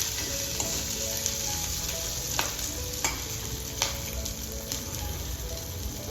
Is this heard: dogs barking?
no